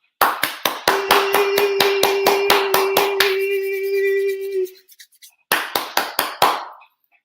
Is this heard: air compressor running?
no